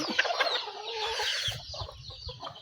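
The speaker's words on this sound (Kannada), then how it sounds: "ನೋಡಿ ಎಷ್ಟಂತ್ರ ಕೋಳಿ" Several chickens cluck and squawk close by in a busy, overlapping chorus, with a few sharper calls rising above the flock.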